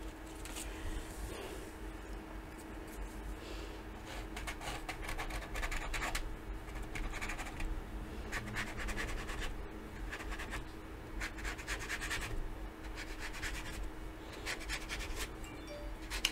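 A tool drags paste back and forth across paper in steady repeated strokes, a soft continuous scratchy rasp that stays faint and close, with a low background hum beneath it.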